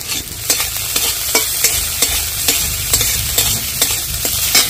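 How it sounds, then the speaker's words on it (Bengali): Cauliflower stir-frying in a pan with chopped ginger and garlic: a steady, close sizzle broken by rhythmic spatula scrapes and stirs, with no talking. "ফুলকপিটা হালকা করে ভাজা হয়ে গেছে, দিয়ে দিচ্ছি আদা কুচি,"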